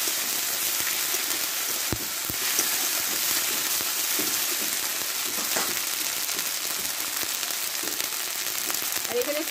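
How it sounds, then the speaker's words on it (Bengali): A spice paste of ground green chilli, ginger, cumin and tomato sizzles steadily in a pan, a soft continuous frying hiss with a few faint clicks. "এই মশলাটা একসঙ্গে আমি কষে নেব।"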